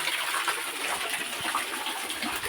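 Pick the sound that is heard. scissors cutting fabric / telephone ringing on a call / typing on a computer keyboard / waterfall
waterfall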